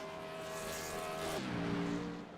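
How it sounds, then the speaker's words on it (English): Number 6 Xfinity stock car in iRacing at North Wilkesboro revving as it passes, a loud high engine whine that drops sharply in pitch midway as it goes by, then fades. "revving that number 6 machine up as he came by the camera there"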